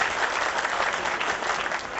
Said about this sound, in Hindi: उनके लिए भी जोरदार ताली बजाइए।